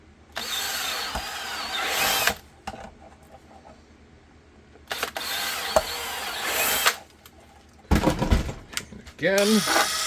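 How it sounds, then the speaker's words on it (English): A power drill bores holes through holster material for an HK VP9 Match holster. Three separate whirring bursts of a few seconds each are heard close up, with quiet pauses between them, and a voice speaks briefly near the end. "Drill those out."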